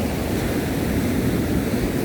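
Ocean waves washing in close by, a loud continuous broadband rush of surf mixed with wind buffeting the microphone, unbroken and without voices.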